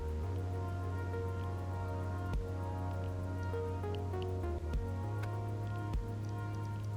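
Steady rainfall in the survival city-builder Endzone 2, a continuous soft patter layered over a low humming drone and faint musical tones, with occasional light thuds and no voices.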